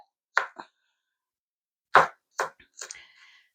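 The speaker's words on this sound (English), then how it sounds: "So we're dicing the onion." A knife dices an onion on a cutting board: a few sharp, close chops come in small irregular clusters, separated by silent gaps.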